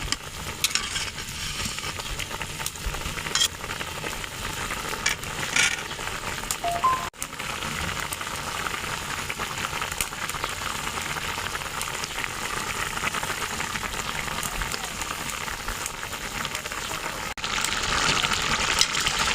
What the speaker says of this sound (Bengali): সুন্দরভাবে ফুটছে মাছটা।